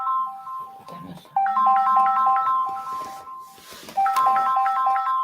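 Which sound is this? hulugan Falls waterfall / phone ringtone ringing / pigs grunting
phone ringtone ringing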